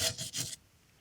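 Rust is scraped off a drum brake wheel cylinder in two or three quick, harsh rasping strokes, close and brief, followed by quiet.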